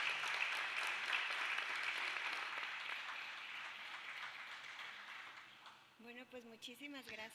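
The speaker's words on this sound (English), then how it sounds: "I would like to give them a big round of applause" Audience applause at a conference on US–Chile climate action and the energy transition, steady at first and then fading away, before a voice begins speaking near the end.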